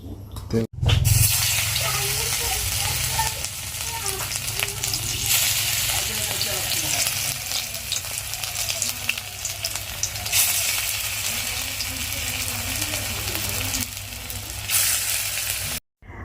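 Leaf fritters (bora) fry in hot oil, giving a steady close sizzle and crackle that swells and eases across the whole stretch, with someone talking over it.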